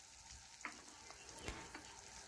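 Black cumin, white mustard seeds and a dried chili crackle in a little oil, with a quiet sizzle punctuated by a few faint pops and taps.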